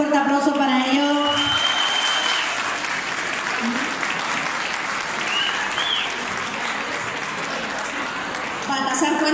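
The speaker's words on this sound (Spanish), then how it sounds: "Un fuerte aplauso para ellos." A crowd at a wine festival applauds the local police receiving a plaque, steady sustained clapping throughout, with voices and a brief whistle-like tone above it and speech heard at the start and end.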